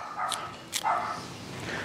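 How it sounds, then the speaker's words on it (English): A dog barks a few times in a machine shop where a Logan lathe and a Bridgeport mill are being rebuilt, the yips close and moderately loud over a steady background hum. "teach the dog to be quiet"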